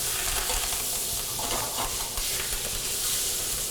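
Venison frying in a pan with thyme, crushed garlic and rosemary gives a steady, close, crackling sizzle that runs without a break, with no voices over it.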